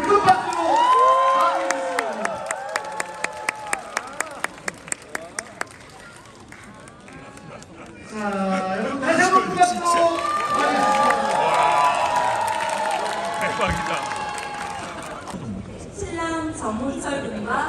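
Wedding guests clap and cheer, with a run of sharp, even claps early on, then a swelling, sustained crowd roar mixed with voices and cheers.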